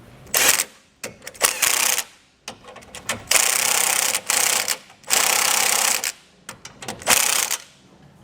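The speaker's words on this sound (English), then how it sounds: "Probably going to tighten these down first with a 3/4 inch socket." A ratchet fitted with a 3/4 inch socket tightens base plate bolts during a Blue Ox base plate install on a 2019 vehicle, giving loud, close bursts of rapid clicking that stop and start in several runs with short pauses between.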